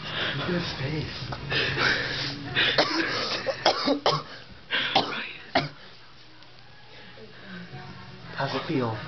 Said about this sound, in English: He's just coughing up blood.